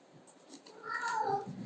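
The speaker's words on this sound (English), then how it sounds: "excited cat here." An excited cat lets out a rising-and-falling meow over quiet background noise, fairly soft and held for about a second near the end.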